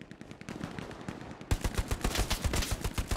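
Rapid machine-gun bursts in the WWII shooter Hell Let Loose on the Omaha map, faint and distant at first, then louder and closer with dense repeated shots overlapping in a sustained fusillade.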